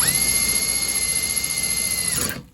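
A power drill spins at high speed into a small format interchangeable lock core, giving a loud, sustained whine close by before it winds down and stops near the end.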